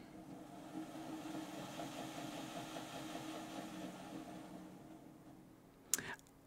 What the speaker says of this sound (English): We've got control of our locomotive using this wireless throttle.